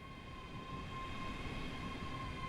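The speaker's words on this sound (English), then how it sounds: "let this train come in here" A train pulls in at Glasgow Queen Street station with a low, even rumble and a steady high whine from the rails, heard from a distance without talk.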